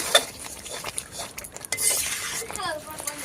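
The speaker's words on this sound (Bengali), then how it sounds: "গরম মশলা দিয়ে একটু নাড়িয়ে নিচ্ছি" Chicken stirred with garam masala in a pan, metal utensil scraping and clinking against the cookware with light sizzling underneath, fairly close and busy.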